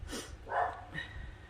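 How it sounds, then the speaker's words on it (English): Indoor pet dog gives a few short, separate barks and huffs, close and moderately loud, with quiet gaps between them and no talking. "Sorry about my dog, you must have seen someone outside."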